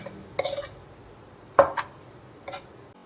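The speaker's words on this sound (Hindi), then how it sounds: "अब हम कुकर का ढक्कन हटाकर बाजरे को देख लेते हैं।" A pressure cooker lid comes off a metal pot of cooked millet in a home kitchen, giving three short metallic clinks and clatters spaced apart, fairly close and otherwise quiet.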